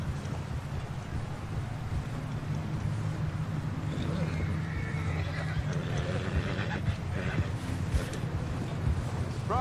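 Horse neighs and clip-clopping hooves in the Red Dead Redemption 2 video game, steady hoofbeats carrying on under a voice with light wind noise behind.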